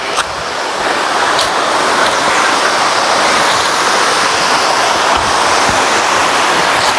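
Fresh water flows at Cheddikulam camp in Vavuniya, a loud, constant rushing hiss heard close by and alone, with no talk over it.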